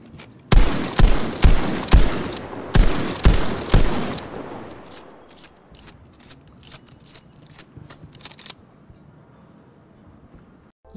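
A Model 37 shotgun fires in Battlefield V: about eight loud, sharp blasts in a steady rhythm, then quieter mechanical clicks and clacks of pumping and reloading that fade to near silence.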